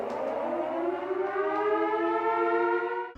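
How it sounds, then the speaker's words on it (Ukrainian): A prison siren in The Shawshank Redemption wails steadily after an escape, its tone slowly rising, loud and continuous with no voices. "після повідомлення про втечу починають завивати сирени"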